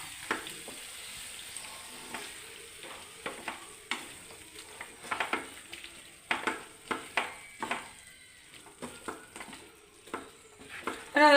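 Beef curry stirred and mixed in a pan, a spoon scraping and clinking in irregular bursts over a soft, steady sizzle of simmering masala.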